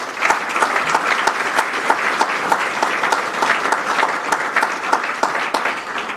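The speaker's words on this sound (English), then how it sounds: "Please join me in a round of applause for all these people." Audience applause at a 2023 high school athletic hall of fame awards ceremony, dense sustained clapping from a large crowd in a hall, steady throughout.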